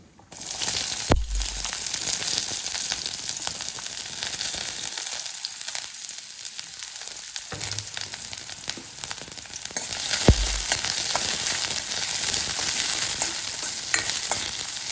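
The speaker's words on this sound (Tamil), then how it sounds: "அடுப்பில் கடாயை போட்டு எண்ணெய் ஊற்றிருக்கேன். கடுகு சேர்த்துடலாம். கடுகு பொரிஞ்சோன்னே வெங்காயம்." Mustard seeds and onion fry in hot oil in a kadai, a loud continuous sizzle with crackling pops and occasional stirring scrapes throughout, briefly dipping quieter midway before swelling again, no talking.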